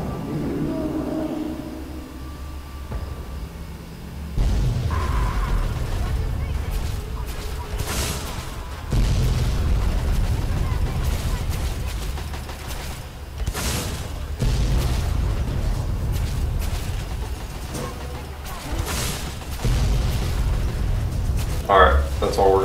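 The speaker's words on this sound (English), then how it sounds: "we're only gonna fire one mini nuke this time" A mini nuke fired in Fallout 3 bursts into a heavy explosion, with loud booming blasts and long rumbling roars recurring over the stretch while people talk throughout.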